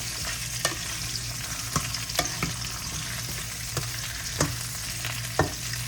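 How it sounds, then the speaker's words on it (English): Onions and peppers sauté in a pan under a soft spatula, giving a low, even sizzle broken by occasional light taps and scrapes, close but fairly quiet. "I'm gonna let these sweat, saute, whatever you want to call it"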